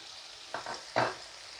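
Ajwain and mustard powder hitting hot oil in a pan for a fresh tuna steak curry, two short sizzling bursts close by against a quiet background, with no voices.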